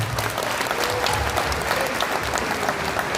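Applause for a bishop at a memorial gathering, a dense and steady round of clapping from a crowd, loud and close, lasting the whole few seconds without letting up.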